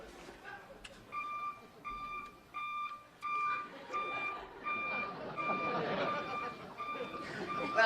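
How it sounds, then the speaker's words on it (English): Repeated electronic beeping, a steady series of evenly spaced high tones like a reversing alarm, heard under people talking in a comedy show. "do you hear a strange beeping sound?"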